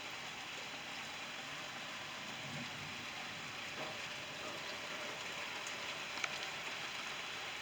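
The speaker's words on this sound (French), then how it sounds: "Il pleut bien." Steady hiss of rain falling during a summer night storm in Montady, France, even and moderately loud throughout, with a faint click near the end and no talking.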